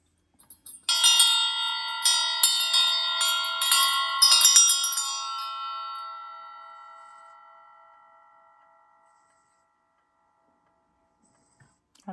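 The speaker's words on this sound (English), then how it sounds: "So first of all, let's ring the bell." A hand bell struck repeatedly in a quick, uneven series of bright metallic rings, close and clear, then left to shimmer and fade slowly into silence over several seconds.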